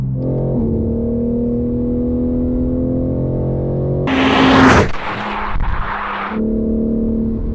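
A modified BMW M3 G80 making over 700 hp sends a loud exhaust drone that shifts pitch between gears. It then bursts into a harsh, roaring rev with crackling pops before settling back to a steady cruise.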